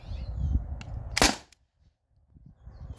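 Modified T4E TR50 air gun, fully open and fed from an 800 psi tank, firing a single sharp loud shot followed by near silence, with faint handling noise before and after.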